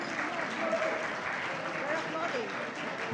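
Brief applause breaks out at a banquet hall, a steady patter of clapping from a crowd with voices murmuring underneath.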